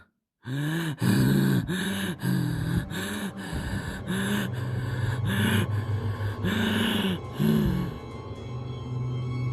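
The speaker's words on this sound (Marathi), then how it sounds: "अगदी रागात कोणीतरी दात ओठ खाऊन जोरजोरात श्वास घेतंय असं त्याला वाटत होतं" Heavy, angry breathing as a horror sound effect: loud, close, rhythmic gasps and rasping breaths repeat in quick succession, voiced and strained, with no other sound around them.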